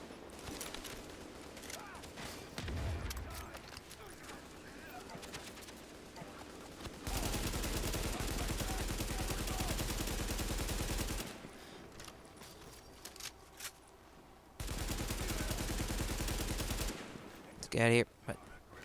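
Repeated automatic fire from an M14 rifle in the video game Tom Clancy's The Division comes in two long dense loud bursts, with scattered shots, effects and a sharp blast near the end.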